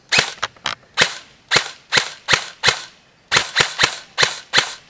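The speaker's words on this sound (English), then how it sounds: "We're going to wind it up, and we're going to try it on semi." Airsoft gun firing on semi-auto from a CAA high-capacity magazine, a run of about a dozen sharp, close shots in two uneven bursts separated by a short pause.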